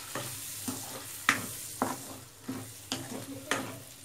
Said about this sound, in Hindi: हमने जो भेजे को धोकर रेडी रखा था, अब हम इसमें डाल देंगे। ये देखिए, इस तरीके से अच्छे से मिला लीजिए।